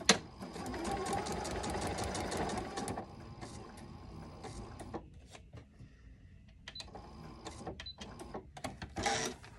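A sewing machine stitches the long straight sides of a quilt block in rapid rhythmic runs, stopping and starting with short bursts and clicks, close and clear with no talking.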